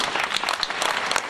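A theatre audience at a comedy show claps in a brief, lively burst, loud and close with crisp individual hand claps.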